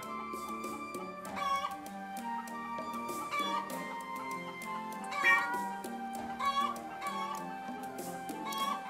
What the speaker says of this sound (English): We'll pet the cat.